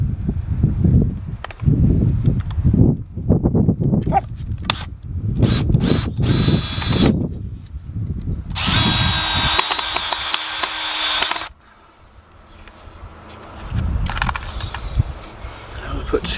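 A power drill drives screws into a wooden allotment garden gate in several short whirring bursts and one longer run, close and loud, with some rustling and handling noise between them.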